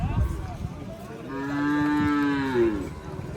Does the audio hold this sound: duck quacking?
no